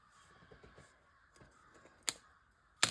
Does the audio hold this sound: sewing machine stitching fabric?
no